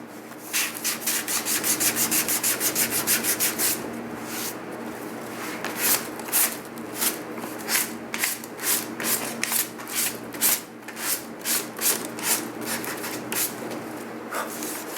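A helmet is hand-sanded with 120-grit sandpaper to level out earlier 80-grit scratches, a close scratchy rubbing, continuous at first and then broken into quick back-and-forth strokes.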